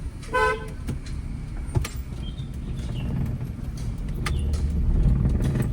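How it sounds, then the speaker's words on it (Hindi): Short car horn toots sound early on against a steady road and engine rumble that grows louder over time, as a car slowly turns into a narrow lane. "हाँ, सिग्नल हॉर्न।"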